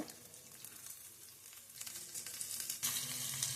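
Spices for doddapatre rasam fry in a pan, starting as a faint sizzle that grows steadily louder and denser. A sharper burst of crackling hiss comes near the end. No one speaks.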